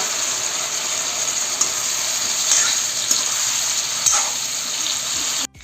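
Fried chicken pieces going into a pan of sizzling onion and capsicum for chilli chicken, a loud continuous hiss with a few clinks of a utensil, cutting off abruptly at the end.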